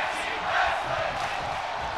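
Crowd in a WWE 2K24 wrestling match roars and cheers steadily, a dense sustained wall of noise with a slight swell midway and no break.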